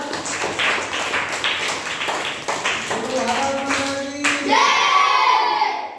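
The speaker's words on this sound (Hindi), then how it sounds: "ताली बजाइए एक बार" A group of schoolchildren in a classroom claps in a short, scattered burst, then a voice speaks over the room.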